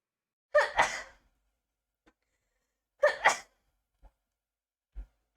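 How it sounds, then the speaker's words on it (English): Two loud, close human sneezes about two and a half seconds apart, each a sharp burst trailing off, with a few faint clicks and near-silence between them. "Ignore me sneezing, please."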